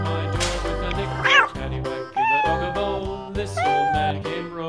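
A toy's electronic cat meows a few times in quick succession over a short synthesized jingle, loud and close.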